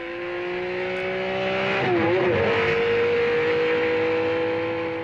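Alfa Romeo Tipo 33 race car on the 1972 Targa Florio road course accelerating hard along a short straight, a loud, close engine note rising steadily in pitch with a brief gear-change dip midway, no talk.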